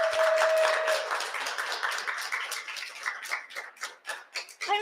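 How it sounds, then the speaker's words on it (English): Audience applause greeting a guest onto a fashion talk stage, starting dense and thinning into scattered individual claps near the end. "let's give Tracy a big round of applause and invite her up"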